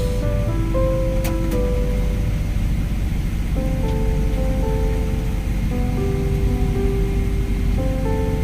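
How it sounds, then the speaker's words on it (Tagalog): Dense, loud roar of heavy rain, constant and close, with faint tonal sounds drifting in the background. "Lakas ng ulan mga tol."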